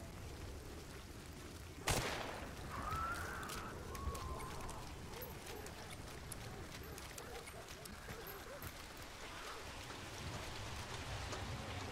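Steady rain hisses through a video game scene, a broad constant wash at moderate level with a sharp impact near the start and faint tonal game sounds over it.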